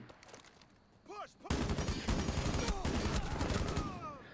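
A heavy exchange of gunfire in the tactical shooter Rainbow Six Siege, with rapid overlapping automatic bursts that erupt loudly and keep crackling nonstop after a brief quieter lead-in.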